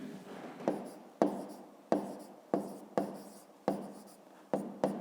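Handwriting during a fifth-grade maths exercise: a pen or pencil scratching on paper in repeated close strokes, each starting sharply and tapering off, in a steady rhythm with no talking.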